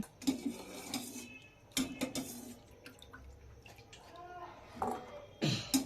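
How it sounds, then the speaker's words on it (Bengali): Boiled green peas are lifted out of their cooking water and drained into a pot, with clinks of a utensil against metal and trickling, dripping water under a voice speaking. "এবার আমি জল থেকে তুলে নিচ্ছি একটি পাত্রে জল ঝরিয়ে তুলে নিচ্ছি"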